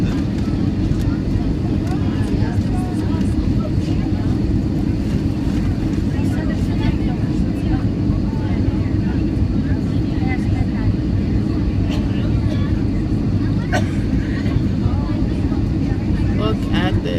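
Airplane cabin noise heard from a window seat while landing over Las Vegas, a loud, steady engine and air roar that continues without a break.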